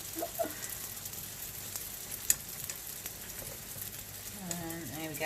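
A keema paratha, a minced-meat-stuffed flatbread, frying in ghee in a pan, a soft steady sizzle with small crackles and a brief clink, with faint talk near the end.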